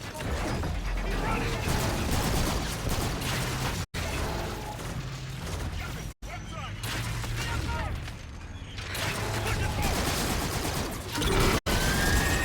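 A frag grenade goes off in a video game amid continuous loud gunfire and clattering mechanical noise, with heavy, dense bursts throughout and brief dropouts.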